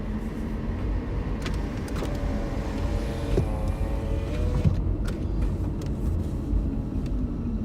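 Interior cabin sound of a car driving through a residential neighborhood: steady low road and engine rumble throughout, with a faint tonal whine rising midway and a few light clicks and knocks.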